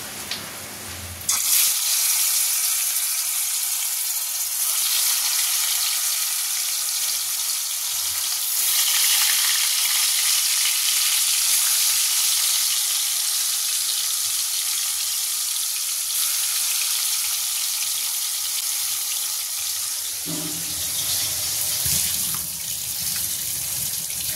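Soybean koftas frying in hot oil for a spicy kofta curry, a steady, close, loud sizzle and crackle that holds for about twenty seconds before fading and shifting near the end.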